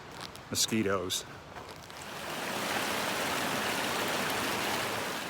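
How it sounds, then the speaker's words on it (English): Flowing water of Rock Creek on the Pacific Crest Trail rushes as a steady broadband stream that swells and then holds level, following a short burst of speech near the start. "I've come to Rock Creek, and before I do this first creek crossing, I'm going to have breakfast."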